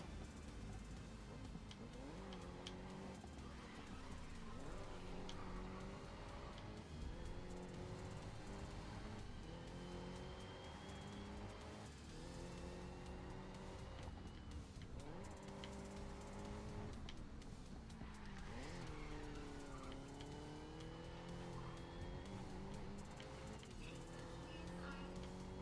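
An engine in a race car in the Grid Legends video game rises and falls through repeated revs and gear shifts, steady and prominent, with speech mixed in.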